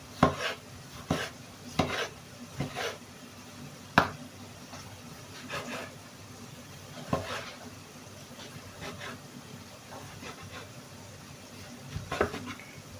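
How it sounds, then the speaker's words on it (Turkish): Vegetables being chopped into small pieces for karnıyarık, heard as about a dozen knife strikes on a cutting board at an irregular pace, fairly soft and close, with no talking. "Küçük küçük doğruyorum"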